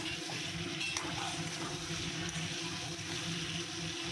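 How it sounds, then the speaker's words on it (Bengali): Rita fish pieces sautéing in a spiced masala, a soft continuous sizzle with faint scraping and crackle, low in level and steady throughout. "মাছটা দিয়ে ভালো করে মশলার মধ্যেই কষাবো।"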